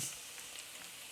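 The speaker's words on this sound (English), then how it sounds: "And they're still sizzling away." A soft, steady hiss of onions frying fills the clip, a faint continuous crackle of sizzling in a hot pan, with no voices.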